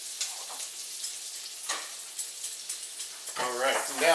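A ribeye steak sears in a pan on a stovetop, giving a steady bright sizzle and crackle throughout, with a brief voice near the end.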